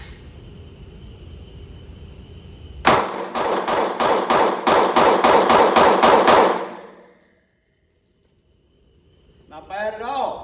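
A Sig P365 pistol fires 12 rapid shots in quick succession, loud and close with sharp, even cracks. A low murmur precedes the string, and a voice briefly follows it.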